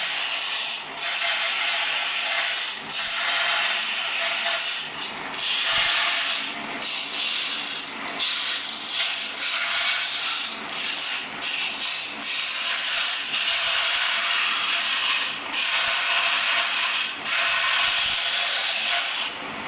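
A 375 W belt and disc sander grinds a piece of aluminium freehand into a disc, giving a loud, continuous abrasive hiss with brief dips where the metal is shifted against the disc.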